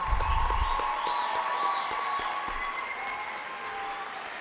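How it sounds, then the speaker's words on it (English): Steady applause from a crowd at an 8th grade moving-up ceremony, dense clapping filling the whole stretch without letup, fairly loud and even throughout. "A round of applause for these art scholars."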